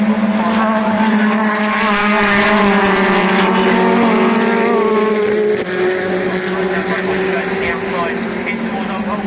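BTCC touring cars racing at Oulton Park, engines roaring loudly and continuously with rising and falling pitch as cars pass, a commentator talking over the top.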